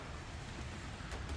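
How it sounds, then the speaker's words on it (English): Steady rain falls outdoors as a soft, continuous wash of hiss that holds at an even level throughout, with no voices over it. "You can see it's raining out there"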